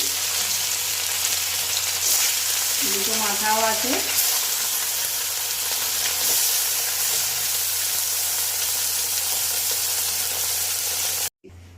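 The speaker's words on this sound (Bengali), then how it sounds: "এবার মাছগুলো আস্তে আস্তে ভেজে নিই" Loud, continuous sizzling and crackling of bhola fish pieces frying in hot oil, steady throughout, with a brief spoken remark over it before it cuts off abruptly.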